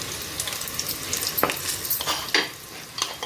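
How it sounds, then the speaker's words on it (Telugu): Turmeric-tinted cooked rice being stir-fried for mango pulihora, crackling with a light sizzle while a spoon scrapes and tosses it in irregular bursts, close up and without any talk. "ఇలా వేసుకొని వేయించాలి ఫ్రెండ్స్."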